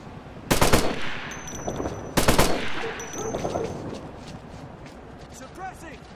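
Two loud bursts of automatic rifle fire in a military shooter game, Operation Flashpoint: Red River, each lasting about half a second, followed by scattered quieter shots and ambient battlefield noise.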